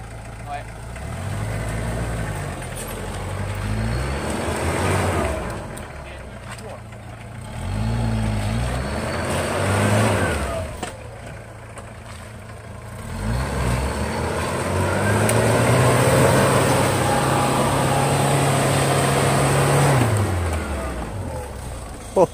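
A Jeep Cherokee XJ with a 2.1 turbodiesel engine runs nearby, its idle rumble rising and falling through several revs and a longer sustained stretch, with voices heard at times.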